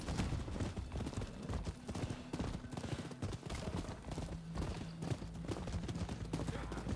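Horse hooves clip-clop in the video game Rise of the Ronin, a steady rhythmic run of hoofbeats continuing throughout amid busy game sounds and a voice.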